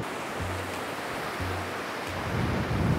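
The fast-flowing Tirthan river rushes steadily near its confluence with the Phalachan river. It makes a constant broad roar of churning water, close and loud, with some wind buffeting the microphone.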